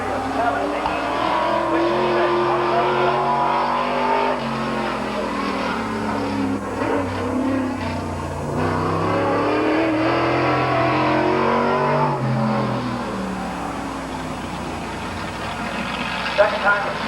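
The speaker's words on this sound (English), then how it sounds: "Here comes Larry McMillan out there trying to qualify the top qualifier tonight" Street stock and sports stock cars run qualifying laps at Midvale Speedway, engines roaring and revving continuously, rising and falling as they circle the track, with an announcer talking over them throughout.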